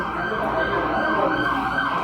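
An emergency siren, police car or ambulance, wails steadily and loudly in a Guatemalan coffee-growing area, continuous tone filling the whole moment.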